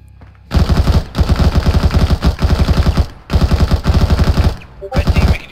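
Loud, sustained automatic gunfire in Arma 3 fires in long rapid bursts with short pauses between them, close and dominant throughout.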